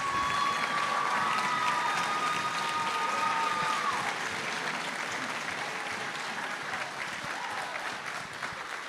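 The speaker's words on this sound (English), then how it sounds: "Big round of applause for Mr." An audience at a BDHS and BDMS school orchestra concert gives a sustained round of applause, a steady, moderately loud wash of clapping that slowly fades, with a brief high tone near the start.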